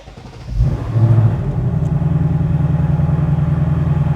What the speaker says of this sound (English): So you're going to want to start the car up.